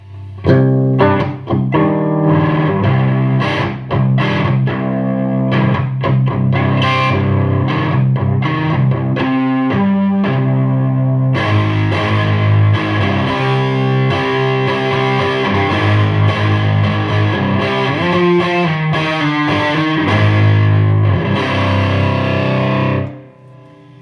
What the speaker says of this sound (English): I actually have a sliver of reverb on this, on the gain channel.